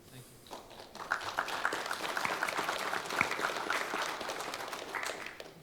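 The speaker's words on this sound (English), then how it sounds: "Thank you for applauding." A crowd applauds with a dense patter of clapping that swells, holds steady for several seconds, then tapers off.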